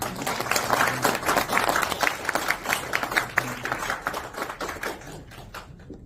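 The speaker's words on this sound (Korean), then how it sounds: "큰 박수로 모시겠습니다." An audience claps in welcome for a doctor of science about to give a lecture on natural products and mental health, a dense burst of applause lasting several seconds that thins and fades out at the end.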